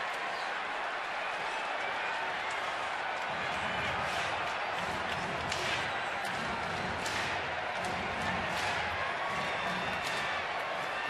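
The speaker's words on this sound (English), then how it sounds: "This crowd's ready." Stadium crowd at an Oakland vs Baltimore baseball game, a steady broad murmur of many fans with scattered claps and cheers, filling the whole stretch without pause.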